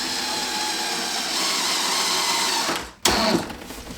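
A power drill drives a cabinet screw through pre-drilled wood, a steady loud whine that runs for nearly three seconds, dips briefly as the screw seats, then surges again.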